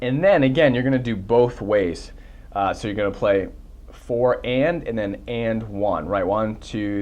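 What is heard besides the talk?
No everyday noises stand out.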